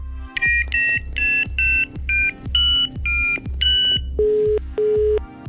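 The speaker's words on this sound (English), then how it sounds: "That's the least dramatic phone sound ever" A telephone sound effect plays as a series of electronic tones. Short high beeps repeat in a steady rhythm, with a deep pulse under each one, then change to two lower, longer tones at the end. The sound is loud and clear, with no talking.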